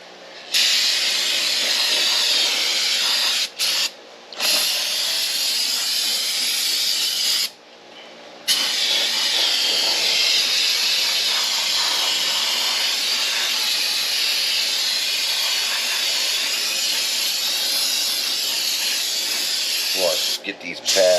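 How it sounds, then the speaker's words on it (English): Brake cleaner sprays in long, loud, continuous hissing bursts onto the rear axle and brake shoes of a Chevy Suburban in a garage, with a few brief pauses between blasts. "So we're gonna spray this all up out of there."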